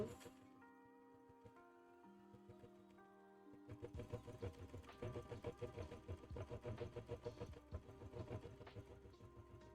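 A sewing machine hums quietly at first, then starts stitching in a fast, steady rhythmic chatter that continues to the end, close by.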